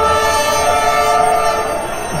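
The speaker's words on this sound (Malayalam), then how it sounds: "പിന്നെ തൊട്ടടുത്തുകൂടെ ഒരു ട്രെയിൻ കടന്നു പോകുന്നത് കാണുന്നു." A train rumbles past very close along a street in Vietnam, a loud, steady roar of wheels and cars with sustained horn-like tones running through the whole stretch.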